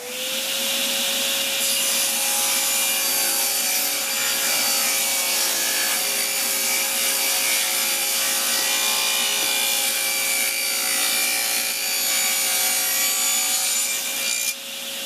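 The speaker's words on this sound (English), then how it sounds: "I've cut 2 pieces of this trim just to make sure that I have enough, and I did those both at the same time so I don't have to set the saw back up again" A power saw cuts through two wooden trim pieces at once, a loud, steady whining buzz with a constant motor tone that runs unbroken for about fifteen seconds and drops off briefly at the very end.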